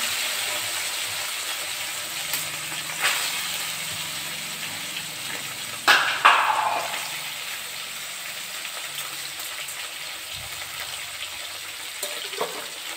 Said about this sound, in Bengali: তেলটা আমার গরম হয়ে গেছে, আমি মাছগুলো ভেজে নিচ্ছি।